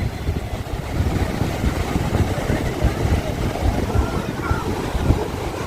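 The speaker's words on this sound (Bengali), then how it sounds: "দেখুন যেমন হাওয়া ঠিক তেমনি ঢেউ" Sea waves and strong wind at Bakkhali beach make a constant, loud, rumbling roar with gusty buffeting throughout, and no distinct breaks.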